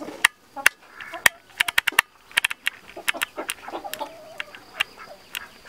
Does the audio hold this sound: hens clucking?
yes